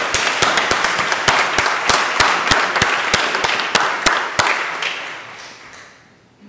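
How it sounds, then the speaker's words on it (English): A Sunday morning church congregation claps for its musicians, a run of sharp, evenly spaced claps that is loud at first and then fades and stops. "So maybe applause for all of them."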